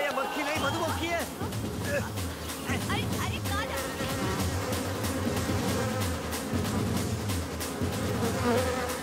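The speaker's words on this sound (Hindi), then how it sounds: "मक्खी नहीं मधुमक्खी है।" A bee buzzes continuously and close by throughout, under lively dialogue and a background music score in a Hindi-dubbed South Indian film scene.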